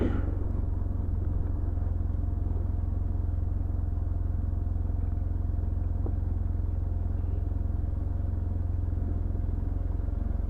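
A motorcycle engine idles with a steady, deep rumble that holds at an even level throughout, close by and without voices.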